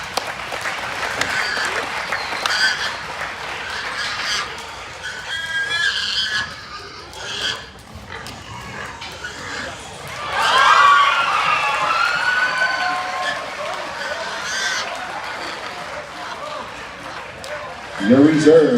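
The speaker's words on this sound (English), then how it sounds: "We'll give you a big round of applause for your reserve." Applause and cheering from the crowd at a junior purebred gilt show at the Arizona National, honoring the Berkshire division reserve. Clapping rises and falls in swells throughout, with an announcer's voice talking over it.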